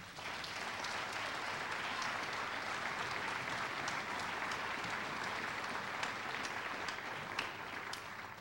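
Sustained audience applause fills a school auditorium after a second grade musical, a steady dense wash of clapping from many hands that holds evenly from start to finish with no voices.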